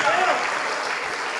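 A church congregation applauding during a worship service, a dense, steady wash of clapping that holds for the whole moment.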